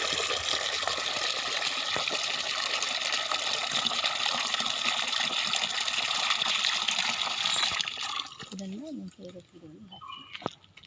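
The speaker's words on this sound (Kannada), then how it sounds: "ಈ ರೀತಿ ಒಂದು ಬಕೆಟ್ ಫುಲ್ ನೀರು ಹಾಕಬೇಕು" Water gushes steadily into a bucket for several seconds, a full rushing pour, then stops and a person begins talking.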